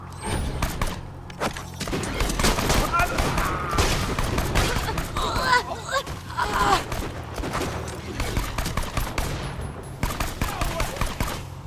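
Video game gunfire with incendiary bullets, dense rapid automatic bursts and thumping impacts running almost continuously, loud and close, with scattered chatter in the mix.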